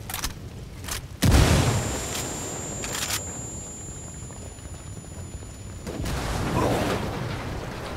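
A frag grenade goes off in the Ghost Recon Wildlands video game as one heavy, close boom with a low rumble, after a few quieter clicks and thumps, followed by a scattered noisy tail and a second swelling rumble.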